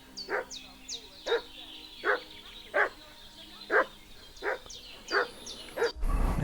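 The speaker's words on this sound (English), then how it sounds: "What's that dog making such a fuss about?" A dog barks in the medieval village setting of Kingdom Come: Deliverance II, sounding about nine evenly spaced single barks at mid distance over a quiet ambient background.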